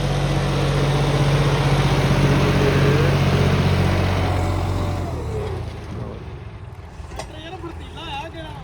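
A John Deere 5055 diesel tractor engine, just repaired with a restored inline fuel pump, runs loudly and steadily up close, then its drone fades and lightens toward the end.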